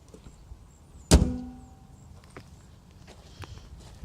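The hood of a 2013 Dodge Dart with the 2.0 Tiger Shark engine is shut with one sharp, loud slam close by, followed by a brief ringing decay and quiet surroundings.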